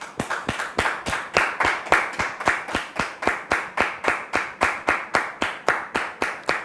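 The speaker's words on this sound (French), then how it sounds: "Recevons maintenant le premier visiteur, le frère Iba, sous vos applaudissements" A studio audience claps in steady unison for a guest's entrance on a religious talk show, with sharp, even hand claps at about three per second throughout.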